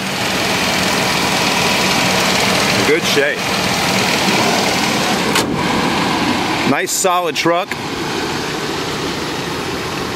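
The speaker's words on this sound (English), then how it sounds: "You can hear that AC compressor cutting on and off like it's supposed to." A 1998 GMC Sierra C1500 pickup with a 4.3-liter engine idles in a steady, even drone while its AC compressor cycles on and off, nearby; someone speaks briefly over it.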